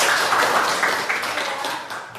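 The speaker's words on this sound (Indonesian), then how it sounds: "Oke, kasih tepuk tangan untuk Otra Jaya." A class clapping hands in a school setting, a brief dense patter of applause that tapers off over about two seconds.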